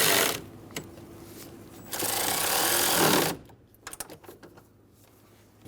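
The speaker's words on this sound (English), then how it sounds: "Snug the fan shroud bolts down." Ratchet or power driver snugging the radiator fan shroud bolts on a 2005-2015 Toyota Tacoma 2.7L L4, a brief loud mechanical burst followed by softer clicks and handling noises nearby.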